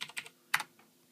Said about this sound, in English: I'm going to put the password Miller